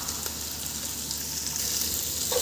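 A spoonful of ginger garlic paste fries in a hot pan for amaranth leaf rice, giving a steady, close, dense sizzle that holds at an even loudness throughout, with no voices.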